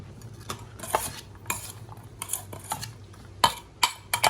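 A spoon stirring food in a metal pot, repeated clinks and scrapes against the sides in an uneven rhythm, close and fairly loud.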